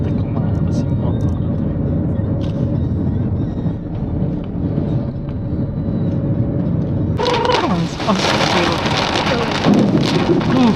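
A heavy rainstorm with thunder in Kota Banjar, with steady loud rain and low rumbling, and the downpour intensifying sharply partway through while people talk over it.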